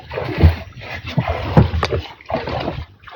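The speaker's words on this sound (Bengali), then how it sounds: "এইভাবে এই নৌকাটা ঠেলে টেনে নিয়ে ঢোকাচ্ছে ভিতরে" A wooden boat is pushed and hauled through water into a Sundarbans forest channel, with rhythmic surges of splashing and swishing, each lasting about a second and repeating close by.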